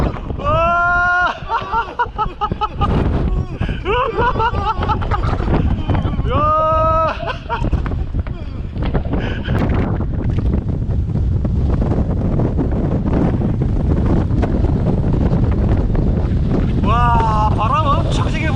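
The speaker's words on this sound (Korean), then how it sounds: "바람 엄청 세게 붑니다 지금" Strong gale wind during a bike ride, buffeting the microphone with a loud, continuous roar and rumble throughout, while people talk and exclaim over it.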